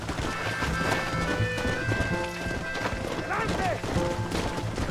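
Horse hooves clip-clop at a gallop in the Red Dead Redemption video game, a steady rhythmic pounding under game music and ambient noise, with a voice briefly heard.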